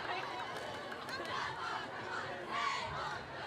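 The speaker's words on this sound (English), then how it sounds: "Argonaut crowd feeling it right now." A high school varsity football crowd roars in the stands during a game, a sustained wash of distant cheering and shouting with rising swells and no break.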